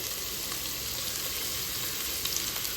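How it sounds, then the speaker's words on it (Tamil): Three medium onions fry in hot oil in a pan for mutton biryani, giving a steady, dense sizzle that holds at an even level from start to finish, with no voices over it. "நல்லா கோல்டன் ப்ரௌன் ஆகிற வரைக்கும் ஃப்ரை பண்ணி எடுத்துக்கலாம்"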